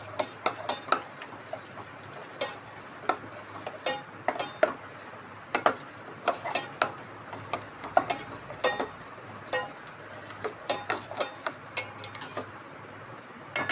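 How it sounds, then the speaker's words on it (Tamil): A spoon stirs salt through a cooking mixture in a pan, giving repeated metallic scrapes and clinks in an uneven rhythm over a faint background hum, close by, with no talking. "உப்பு போட்டு நல்லா கலக்கி விட்டுக்கலாம்"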